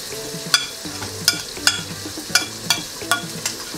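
Blended green seasoning sizzles in a paella pan, a bright continuous frying hiss with regular stirring scrapes about twice a second and a low musical backing underneath.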